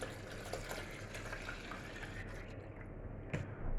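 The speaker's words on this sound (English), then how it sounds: "So hopefully this will pour relatively easily into here." Homemade vinegar pours from a container into another vessel, a soft steady trickling and splashing that runs throughout, with a slight rise and a few clinks near the end and no talking.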